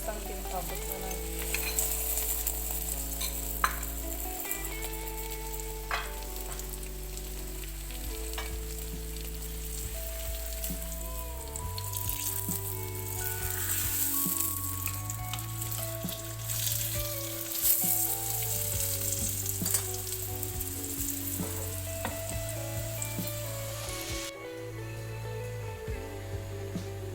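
A paratha fries in ghee on a pan with a steady, close sizzle that runs throughout, while background music plays underneath and no one speaks.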